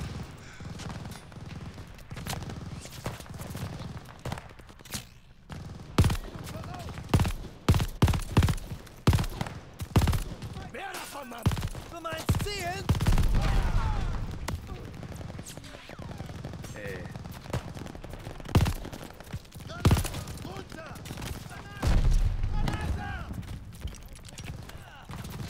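Gunfire in the video game Call of Duty: Vanguard, with rapid bursts of shots and volleys in dense clusters alongside occasional voices, loud and close throughout.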